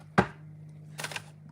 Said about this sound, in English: I'm done chopping these onions.